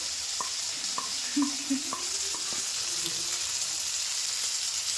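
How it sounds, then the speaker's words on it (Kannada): Sambar greens with chilli powder and sambar powder are lightly fried in a pan, a soft continuous sizzle with faint tapping and scraping from stirring, fairly quiet and without speech. "ಸಾಂಬಾರು ಸೊಪ್ಪು, ಖಾರ ಪುಡಿ, ಸಾಂಬಾರು ಪುಡಿ ಎಲ್ಲ ಫ್ರೈ ಮಾಡ್ಕೊಳ್ಳೋದು."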